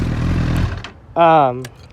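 A 2008-2009 Honda CBR1000RR engine rumbling loudly and then cutting off, the sound dying away within a second, after which someone speaks briefly.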